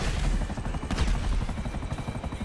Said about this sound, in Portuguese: Agora eu peguei um helicóptero, Rickzão.